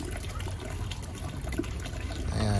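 Water gushes steadily from the outlet of a small solar-powered water pump, a close, constant splashing flow that swells slightly toward the end, with a voice speaking briefly over it.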